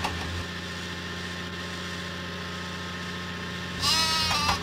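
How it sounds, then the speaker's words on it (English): Sheep bleating in a Thomas and Friends wooden train video game: a bright, wavering bleat rises near the end over a steady background hum of game music and engine-like drone, fairly close and clear. "Then Thomas, Percy, Diesel must deliver the sheep to Farmer McCall's farm."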